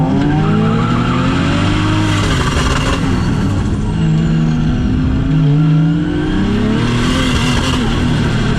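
A 2JZ-swapped Nissan S13 drifts, its engine revving hard while the tires squeal continuously. The sound is loud and close, with the pitch rising and falling as the car slides through the run.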